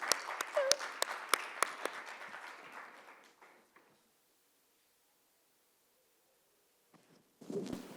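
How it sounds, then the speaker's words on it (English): Scattered applause from a small conference audience at a summit panel fades out over a few seconds, followed by near silence before a brief rustle. "can you all be very charitable with your applause"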